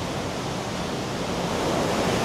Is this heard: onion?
no